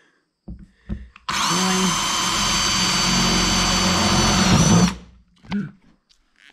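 A power drill whines steadily for about three and a half seconds while boring through plastic during a teardrop camper build. It is loud and close, with a brief spoken word and faint handling noises before and after.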